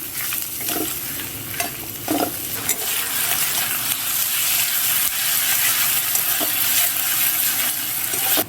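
Finely chopped onion frying in a pan for mutton keema curry, a steady close hiss of sizzling oil broken by a few scraping stirs and light utensil taps, continuous with no voices.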